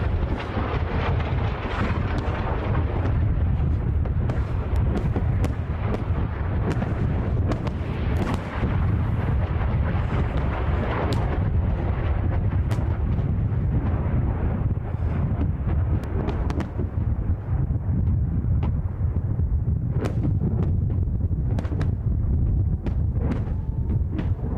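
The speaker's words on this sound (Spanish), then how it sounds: "Las explosiones son incesantes, todo el tiempo están sonando" Continuous loud booming and rumbling in Ashkelon, Israel, with repeated distant explosions, rocket interceptions and sharp cracks layered over heavy wind noise throughout.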